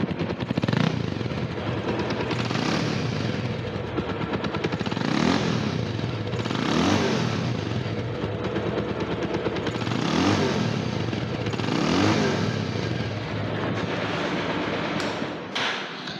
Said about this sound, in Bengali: বাইকটা স্টার্ট আছে।